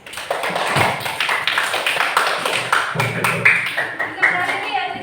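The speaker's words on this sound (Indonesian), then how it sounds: "Tepuk tangan buat Yazid" Classroom applause for a student, close, uneven clapping from a small group of pupils with irregular sharp claps and some voices mixed in.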